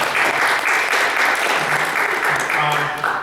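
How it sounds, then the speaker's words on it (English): An audience at a comic convention panel applauds continuously, a steady, dense patter of clapping with a few voices speaking faintly underneath. "Applause for him."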